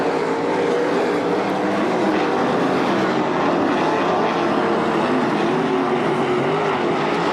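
305 sprint cars race around the dirt track at Attica Raceway Park during a heat race, their engines a steady, unbroken roar that fills the whole stretch with no voices.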